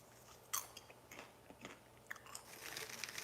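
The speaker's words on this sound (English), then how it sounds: "Then I made some good popcorn." Someone bites and chews crunchy, crispy, airy popcorn close to the microphone, with a sharp first crunch followed by softer irregular crackles and munching.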